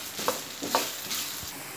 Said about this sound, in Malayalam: എണ്ണ ഒഴിച്ചിട്ട് ഈ ഉരുളക്കിഴങ്ങ് ഒന്ന് ഫ്രൈ ചെയ്ത് എടുക്കുകയാണ്।